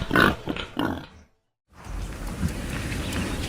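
Wild boars grunt inside a farm trap, a few deep, close grunts in quick succession, then a brief silence and a noisy outdoor background.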